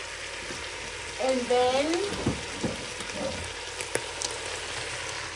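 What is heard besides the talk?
oil sizzling in a cooking pot on the fire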